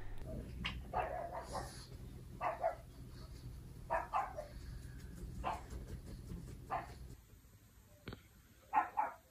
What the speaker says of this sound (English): Now it barks, which makes these bark